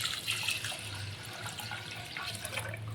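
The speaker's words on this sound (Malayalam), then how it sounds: "പിന്നെ നമ്മൾ രണ്ടും മൂന്നും തരത്തിൽ പാലെടുത്തിട്ടുണ്ടല്ലോ അതുകൂടെ നമ്മൾക്ക് ഒഴിച്ചു കൊടുക്കാം" Second and third extracts of coconut milk poured into a pot of cherupayar parippu payasam, giving a continuous soft liquid splash and gurgle at moderate level throughout, with no talking.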